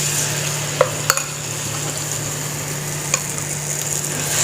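Pakoras fry in hot oil in a kadhai, a steady even hiss throughout with a few sharp clicks of a utensil against the pan; nobody speaks.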